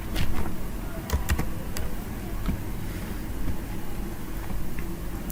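Typing on a computer keyboard during screen work, scattered clicks over a steady low background hum, moderately close with no voices.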